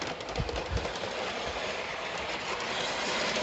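Train rolling past in a Christmas train game, a steady dense rumble with rhythmic clacking of wheels over rail joints, close and loud throughout.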